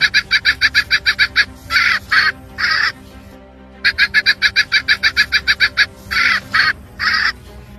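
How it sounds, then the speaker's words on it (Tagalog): A rooster-like crowing call said to come from a highly venomous snake: quick clucking pulses lead into drawn-out crowing notes, with the sequence heard twice, loud and close with no talking. "Isang ahas na tumitilaok na parang manok."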